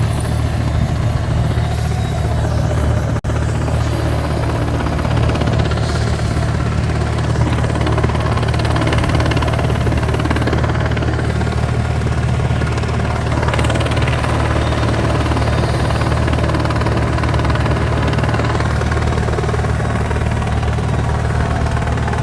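A Hawaiian Airlines plane inbound from Seattle arrives at Honolulu airport, its engines producing a loud, steady roar that holds without a break from start to finish.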